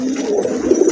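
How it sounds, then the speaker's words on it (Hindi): Caught wild pigeon breathing hard, a brief close, continuous soft rasping with low cooing tones, heard alone. "देखिए कितना हाँप रहा दोस्तों जंगली कबूतर ये"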